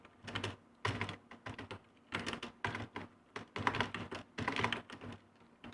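Keys clatter on a computer keyboard while a command is typed in Kali Linux, bursts of rapid clicks separated by short silences, close and clear with no talk.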